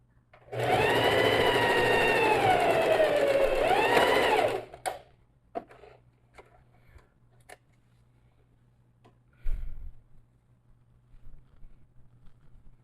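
A sewing machine runs in one steady burst of about four seconds while topstitching a fabric lining, close and loud, then stops, followed by quiet handling clicks and rustles.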